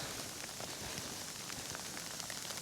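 Steady dense patter of freezing rain and sleet falling on surfaces nearby, a constant hiss with small ticking drops throughout.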